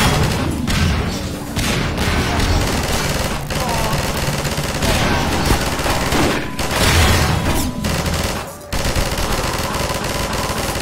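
A mounted machine gun in Half-Life 2 fires long, loud, rapid bursts with heavy thumping impacts and brief gaps, the dense fusillade continuing nearly throughout.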